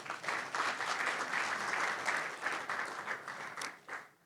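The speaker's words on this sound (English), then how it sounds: "Please give us a round of applause." A conference audience at a middle powers session gives a round of applause, a steady wash of many hands clapping at moderate distance, holding evenly for a few seconds before tapering off.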